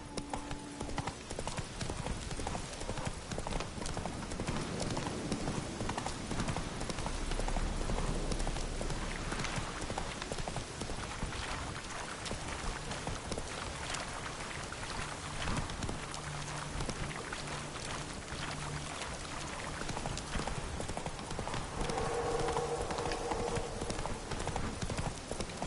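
Roach, a horse in The Witcher 3, gallops with a steady, rapid clip-clop of hooves over a soft background wash like rain, continuous and fairly loud throughout, with a faint low musical tone underneath.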